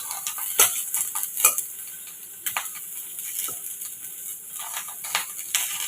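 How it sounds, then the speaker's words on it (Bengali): Bay leaf, cumin seeds and cinnamon fry in hot oil in a wok, a soft steady sizzle punctuated by several sharp metallic clinks and scrapes of a spatula against the pan, with no talking. "কড়াইতে তেল গরম করে তেজপাতা, সাদা জিরে আর দারচিনি ফোড়নে দিয়ে দিলাম"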